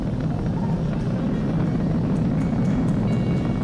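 Steady, dense low roar of Falcon 9 rocket engines during the Crew Dragon Demo 2 launch, heard from a distance as continuous rumbling without breaks or voices.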